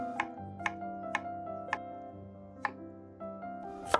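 A kitchen knife slices radish into 1 cm half-moons and potato to the same thickness on a cutting board, about seven sharp, evenly spaced chops over a steady soft musical background.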